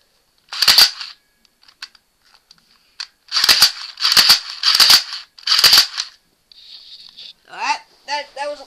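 Semi-automatic shots from a JLS 2022B airsoft AEG at a paper target about three yards away: five sharp, loud cracks in an irregular rhythm, followed by brief mechanical whirring and clicking.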